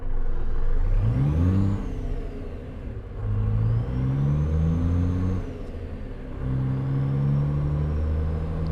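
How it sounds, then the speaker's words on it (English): A heavy truck with a Cummins engine in American Truck Simulator revs and shifts through gears, rising in pitch repeatedly with a steady diesel rumble, loud and close, with no talking. "so that's what you're going to be hearing, the truck engine."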